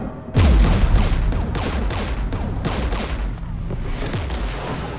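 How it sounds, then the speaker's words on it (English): Sustained heavy gunfire from the Mass Effect 3 video game, with repeated shots and bursts crowding one another over a deep boom at the start, loud and continuous for the whole stretch. "We're taking fire!"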